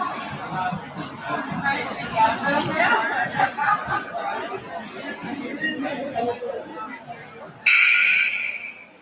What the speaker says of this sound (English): Homestead getting the buzzer to get back on the court.